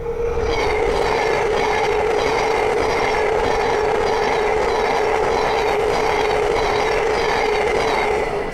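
An LNER Class 800 train passes through on the East Coast Main Line at Great Wymondley, a loud, close, steady roar with a sustained hum and rail rumble throughout.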